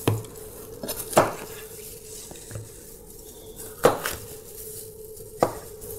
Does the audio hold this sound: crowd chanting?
no